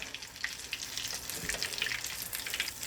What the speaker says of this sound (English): And we're frying them 3 minutes on each side.